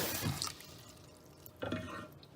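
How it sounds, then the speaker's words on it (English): Water from a tap fills a cooking pot, two short bursts of splashing and trickling, close and fairly quiet, with a lull between them. "you're gonna need to fill up your pot about, half to a third of the way"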